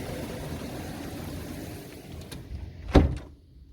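A door is pulled shut against wind during a hailstorm, with a steady windy rush and patter first, then a single sharp thud near the end as the door closes and the outside noise drops away.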